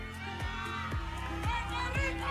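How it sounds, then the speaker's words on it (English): An audience at a Universal Woman beauty pageant cheers and whoops for a contestant, a fairly soft crowd roar mixed under rhythmic show music with pulsing bass drops. "I love to see the audience cheering for their candidate"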